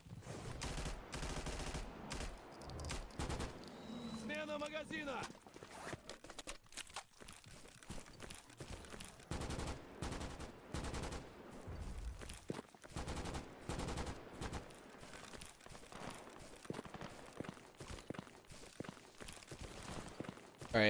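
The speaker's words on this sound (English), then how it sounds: "saw a merc shoot a boar" Video game gunfire as a mercenary shoots at a boar, sharp rapid bursts of shots packed densely together and heard at moderate distance, with scattered thuds and movement around them.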